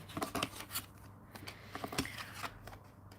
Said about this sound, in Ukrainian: спочатку відкриваю перших три карти в кожному розкладі